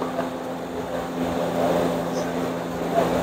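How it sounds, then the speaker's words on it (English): Used-oil heater running in a garage, a steady low hum and broadband rumble filling the background throughout, moderately loud and unbroken. "That noise you hear, that's a heater."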